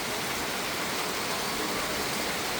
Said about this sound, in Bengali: আমার ব্যালকনি পুরো ভিজে যাচ্ছে বৃষ্টি পানিতে।